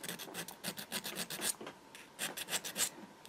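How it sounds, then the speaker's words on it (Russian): A diamond needle file rasping back and forth over the burred wing of a sewing machine shuttle, a steady run of short, close strokes about every quarter second, briefly pausing midway before resuming. "алмазным надфилем зачистить и потом на полировочном обязательно все это заполировать"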